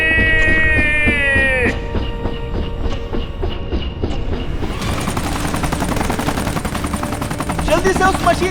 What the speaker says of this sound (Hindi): जल्दी से उस मशीन गन को चलाओ।